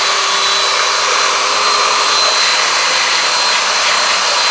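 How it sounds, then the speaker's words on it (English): A power tool sanding a small tire in a shop, giving a loud, steady high-pitched whine and hiss that holds constant throughout without pauses. "I like to sand these tires like completely clean up."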